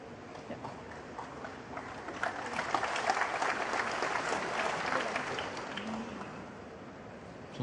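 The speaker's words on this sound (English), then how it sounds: "Applause from the crowd" Crowd applause at the Shanghai Masters 2024 snooker final between Judd Trump and Shaun Murphy, a steady patter of clapping that swells in the middle and lingers without any voices.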